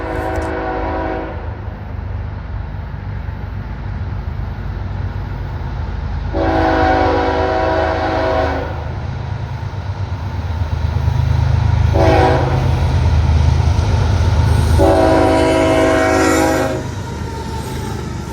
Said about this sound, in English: an eastbound BNSF freight flies through